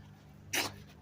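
A single short, sharp sneeze bursts out once against quiet background hiss.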